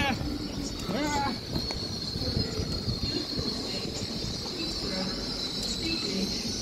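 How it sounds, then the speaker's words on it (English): An LNER Azuma electric train, unit 801108, arrives at Doncaster station with a steady rumble of wheels and a high electrical whine, brief wheel squeal early on, heard from the platform amid station ambience. "LNER Azuma arriving here at Doncaster."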